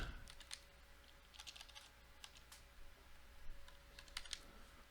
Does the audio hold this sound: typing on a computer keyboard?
yes